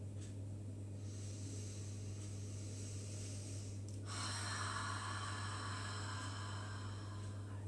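Deep yoga breathing during a Hatha yoga session: a long, soft breath through the nose gives way midway to a fuller, hissing exhale, close and steady over a low constant hum.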